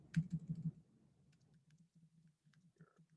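Several quick keystrokes on a computer keyboard, typing a short message, come in a brisk cluster near the start, followed by quieter intermittent clicks and soft low rumble.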